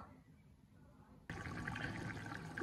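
Water pours into a pan of small fish curry cooked with orange peel, a steady splashing fill that starts abruptly after a quiet stretch and runs on close and moderately loud.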